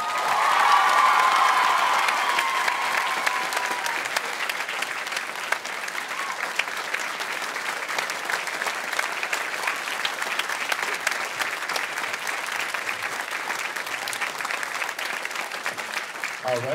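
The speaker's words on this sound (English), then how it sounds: "Ms. Cho, she needs more applause." Audience at a high school choir concert applauding at length, steady dense clapping with some cheers, while a voice speaks over the start and talk continues faintly beneath.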